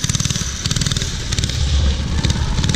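A motorcycle engine revs and accelerates up close, a loud, rapid stuttering burble of pulsing firing beats that thickens and grows louder toward the end.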